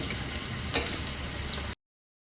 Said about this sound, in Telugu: ఇలా గోల్డ్ కలర్ వచ్చేలాగా గోల్డెన్ బ్రౌన్ కలర్ వచ్చేలాగా వేయించుకోవాలి